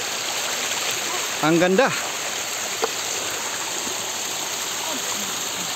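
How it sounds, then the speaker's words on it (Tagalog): A mountain stream flows on a trail up Dinagsaan Peak, steady broadband rushing water close by, with a brief spoken remark cutting over it. "daloy ng tubig"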